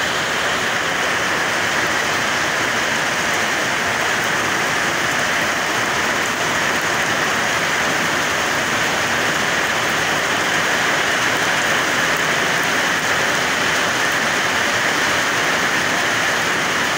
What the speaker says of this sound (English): been blessed with the rain today.